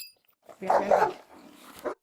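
A police dog barks during a Florida arrest, a loud close burst of barks followed by a single shorter bark after a pause, with faint talk in between.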